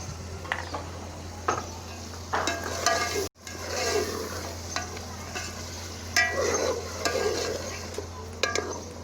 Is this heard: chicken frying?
yes